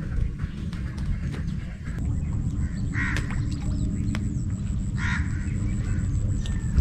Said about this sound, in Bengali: আটকে গেছে, পালানোর অনেক চেষ্টা করছে, খুব ভালোভাবেই জড়িয়ে গেছে পাখিটা।